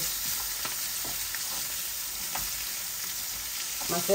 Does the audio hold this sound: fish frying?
yes